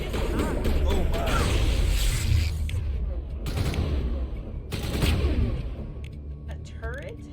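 Gunfire in the Mass Effect 1 video game, bursts of shots and impacts crackling through a loud combat mix, with voices talking over the fighting.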